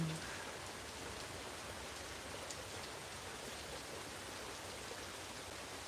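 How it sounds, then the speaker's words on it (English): Steady rain falls throughout, a dense, even hiss of drops on surfaces at moderate level with no talk over it. "Ooh, wait, it's raining."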